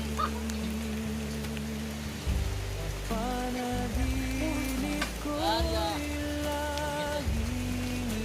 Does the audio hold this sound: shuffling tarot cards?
no